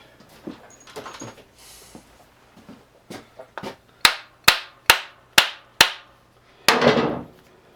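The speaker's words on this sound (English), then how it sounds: "Big old hammer and wrap on that first" Several sharp, evenly spaced hammer taps ring out on a metal part of an old Champion generator, loud and close, following quieter scuffs and knocks.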